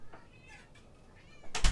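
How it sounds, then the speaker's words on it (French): A cat meows outside wanting to come in: a few faint, soft meows, then a loud close-up burst of noise at the end. "il y a mon chat qui veut rentrer"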